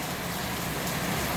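Heavy rain pours down during a July downpour in South Korea. It makes a steady, dense hiss of falling water with no talking.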